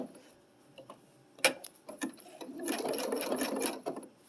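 A sewing machine stitches a blanket stitch around an applique curve, running in short bursts with pauses at pivots, then a steadier continuous whir of the needle toward the end, close and moderately loud.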